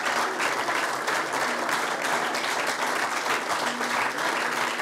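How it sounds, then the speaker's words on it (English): A large crowd claps continuously and evenly at a peace prize ceremony, a dense wash of hand claps with no break. "there's so much clapping"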